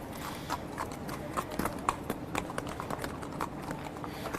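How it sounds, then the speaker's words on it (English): Racehorses walk past on the backstretch at the Churchill Downs stables in Louisville, Kentucky, their hooves clip-clopping steadily and fairly close over a low outdoor background. "these are Mr. Mott's horses coming by us right here"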